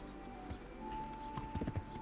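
Horse hooves clip-clopping as the rider moves forward in the video game Kingdom Come: Deliverance, a few faint, irregular hoof thuds growing into a quick cluster near the end over a low ambient hum.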